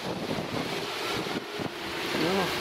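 Wind blowing hard across a microphone outdoors on a city street, a continuous broadband rush that buffets and swells, close and loud with no clear talk.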